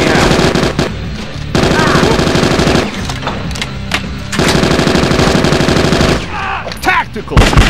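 Heavy automatic gunfire from the Bad Boys 2 video game rattles in long, loud, dense bursts with brief pauses between volleys, and voices can be heard between the shots.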